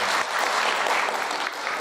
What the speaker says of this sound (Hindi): मैं चाहता हूं सब लोग जोरदार तालियां बजाकर उनका स्वागत करें